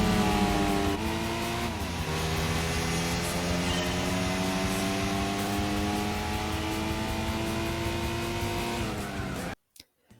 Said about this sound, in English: The Suzuki Alto Works is a well-known car that has this sound, but did you know this car sounds identical to the Renault 5?